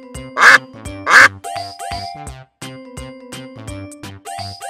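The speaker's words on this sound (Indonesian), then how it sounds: "Seperti ini, suara bebek." Repeated duck quacks, loud and close, with two strong nasal calls at the start followed by a run of shorter quacks over a faint tinkling background, no talking.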